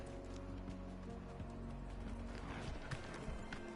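Quiet, rhythmic horse hoof clip-clops in the video game Final Fantasy XVI repeat steadily over a faint electronic background.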